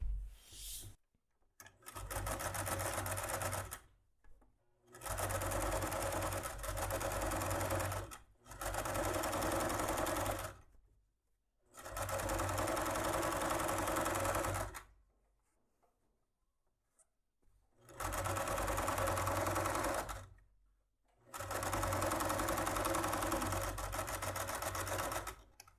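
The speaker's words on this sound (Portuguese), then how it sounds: "Vamos passar uma costura aqui para rebater" A sewing machine stitches a seam on a makeup bag in several loud bursts of rapid whirring, separated by short pauses of near silence.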